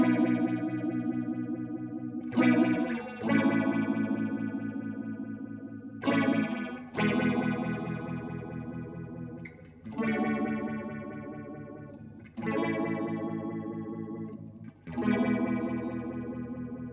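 Electric guitar run through an Electro Harmonix Bad Stone phase shifter pedal, distorted chords struck every few seconds and left to ring with a slow, swirling watery sweep, loud and alone.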